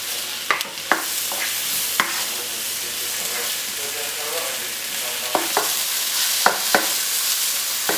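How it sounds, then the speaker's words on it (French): Onions frying in a pan for a beef sauté, a steady close sizzle broken by several sharp clicks and scrapes of a spoon stirring them as they brown, with no voices. "Il faut laisser revenir jusqu'à ce que les oignons soient caramélisés."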